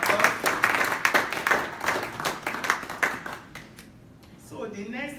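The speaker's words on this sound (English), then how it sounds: "Let's give ourselves another round of applause" Scattered rhythmic clapping from attendees at an Institute of Information Management induction and investiture ceremony, fading out partway through before a voice begins speaking.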